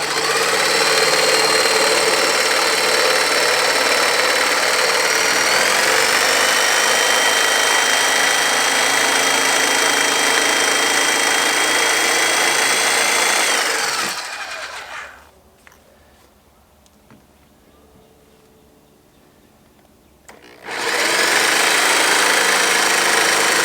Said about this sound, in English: We'll take that over to the jigsaw and we'll cut out those pieces